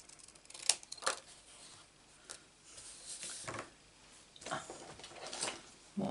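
Faint snips and soft crunching of scissors cutting through paper, scattered irregular strokes at close range in a quiet room.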